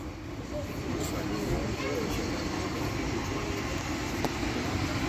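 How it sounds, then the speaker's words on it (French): A Paris metro train arriving at Bir-Hakeim station rumbles steadily, a continuous low roar of wheels and motor filling the whole stretch with little change in loudness. "On voit même l'autre train qui va, l'autre métro qui arrive à Bir-Kaem en face."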